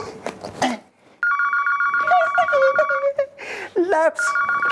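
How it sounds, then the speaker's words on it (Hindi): A telephone rings in steady bursts of bright electronic tones, close and clear, with someone speaking briefly before the ringing starts and again between rings. "शायद लप्पी का फोन है"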